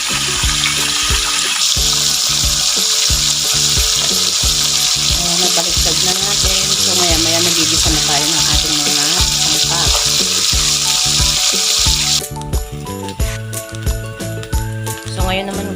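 Tilapia fries in hot oil, a loud constant sizzle with crackling spatters, over a steady rhythmic mechanical thumping, and the sizzle drops away near the end as pulsing sounds remain.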